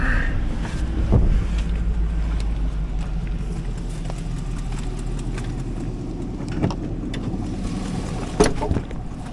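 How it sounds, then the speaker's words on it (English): A 2003 Hummer H2 with a 6.0L LQ4 V8 idles at a salvage yard. The engine runs with a steady, deep rumble, broken by a few faint clicks and knocks. "let's listen to that motor"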